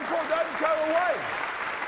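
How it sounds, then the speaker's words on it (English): An audience applauds after a magician's cup trick, a steady bed of clapping that runs beneath a clearly audible voice with rising and falling pitch. "He deserves a super round of applause."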